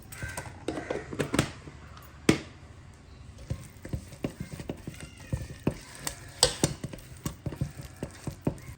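Masala with turmeric scraped and stirred in a pan for pearl spot fish, irregular clacks of a spoon against metal over a low frying sizzle, close by and moderately loud.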